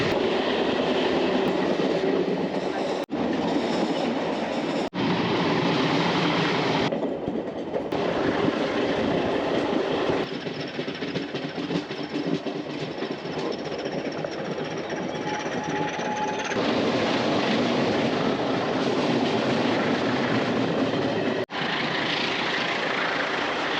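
Train riding along the railway through Portugal's Douro Valley, heard from on board as a loud continuous rumble with rhythmic clatter of wheels and track, broken by a few abrupt shifts in the noise.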